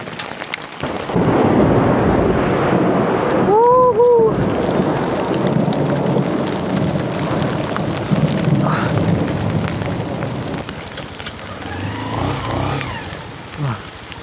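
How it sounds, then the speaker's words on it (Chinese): Heavy rain pounds down outdoors in the mountains near a stream and reservoir, a loud, dense roar that persists throughout, with a low rumble of thunder and brief distant sounds mixed into the downpour. "现在好大的雨啊，还好咱们撤了下来"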